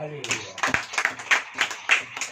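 Rhythmic clapping from a church congregation, roughly two claps per second in a steady beat, fairly close and moderate in volume, with a voice mixed in.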